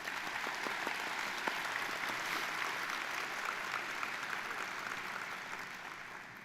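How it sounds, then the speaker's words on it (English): Steady applause from an audience at a veterinary convocation and white coat ceremony, even and moderately loud throughout with individual claps audible, slowly fading toward the end. "So let's give them a round of applause."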